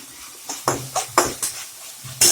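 Ginger and garlic sauté in a pan with curry leaves, heard as a run of sharp scraping stirs and clinks of a spoon against the pan over a low sizzle, close and fairly loud, with no talk.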